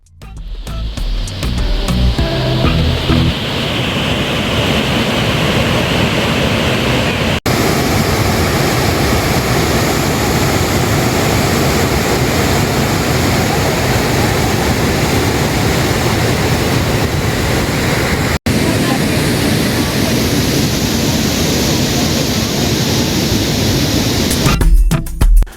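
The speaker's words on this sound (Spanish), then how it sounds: "serie de cascadas con pozas de un intenso color azul turquesa, formadas por el río Tulijá" The turquoise waterfalls of the Tulijá river in Chiapas give off a steady, loud, broadband roar of rushing water that stays constant throughout, with no voices.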